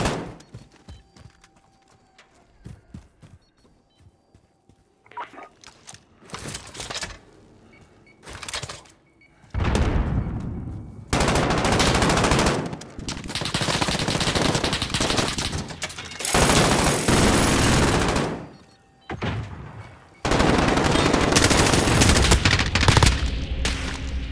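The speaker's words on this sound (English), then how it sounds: "Sentry gun on station." Sentry gun in a video game fires in long, loud automatic bursts separated by short pauses, with quieter game sounds in the gaps before the firing starts.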